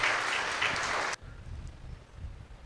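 An audience at a catechists' seminar in Vijayawada claps together in a dense burst of applause for about a second, then it cuts off abruptly, leaving only a faint room murmur.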